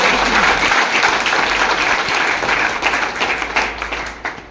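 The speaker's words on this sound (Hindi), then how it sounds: "ताली बजा दें।" Audience applause at a Hindi-language RCM business motivational talk, a dense steady clapping that fills the room loudly and then slowly thins out toward the end.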